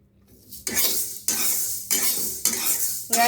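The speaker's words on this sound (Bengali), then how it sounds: "আমার মুগের ডাল ভাজা হয়ে গেছে সুন্দর সুন্দর কালার আসছে" Mung dal frying in a pan is stirred in a few distinct scraping strokes, each bringing a burst of soft sizzle, close and clear with no talking.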